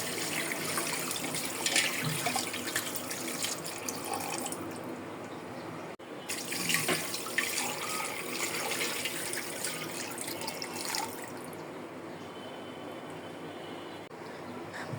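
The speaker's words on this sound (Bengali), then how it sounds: "মাখানো হয়ে গেছে, এখন পানি দিয়ে দেব।" Water pours steadily into a pot of spiced, oiled beef for nihari, a continuous splashing rush that runs for several seconds before easing into a quieter trickle.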